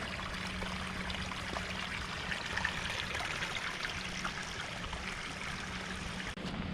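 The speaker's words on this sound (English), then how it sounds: "Water's coming across that top of the field" Storm rainwater runs and trickles steadily across a field of thin topsoil over hard clay, a continuous gurgling flow with soft splashes, close by and fairly quiet.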